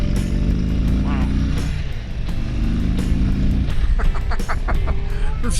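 A 2022 Indian Super Chief Limited motorcycle rumbles on the move, its low engine drone steady under wind noise, with a voice talking over it partway through.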